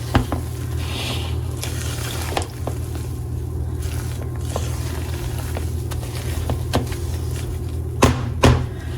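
Whole wheat buttermilk pancake sizzling steadily in a hot pan after being flipped, a continuous close frying hiss with a few soft knocks and scrapes, no voices over it.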